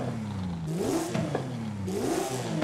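Six-cylinder car in Forza Horizon 5 with an upgraded intake, engine revving up and down twice in smooth swells with pronounced induction whoosh over a throaty mid-range drone, heard alone.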